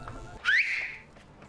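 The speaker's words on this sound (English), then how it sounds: "Where'd you learn to whistle?" A person whistles a single rising-then-falling note, clear and fairly close, lasting about half a second over quiet background sound.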